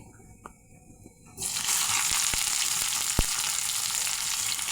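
Whole cumin and chopped onion hitting hot soybean oil, a quiet start that bursts into a loud, steady sizzle, with a couple of sharp pops.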